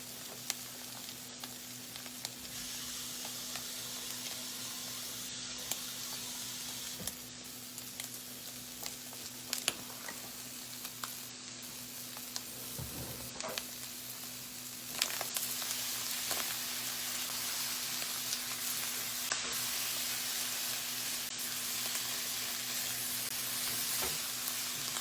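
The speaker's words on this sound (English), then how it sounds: "I'm gonna get some of that chicken from last night, put in this pan right now too, with the vegetables and the egg" Leftover chicken, vegetables and egg frying in a pan for fried rice, a loud continuous sizzle with intermittent stirring clatter, the hiss growing stronger partway through.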